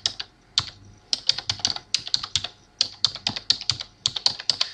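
Keys clatter on a computer keyboard in quick, uneven bursts of close, crisp clicks with brief pauses between runs, and no voices over them.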